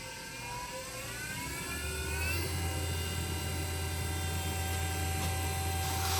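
An Azure Dynamics AC24 electric motor runs with a steady whine and low hum that rises as it speeds up, holding a constant tone throughout with no speech over it.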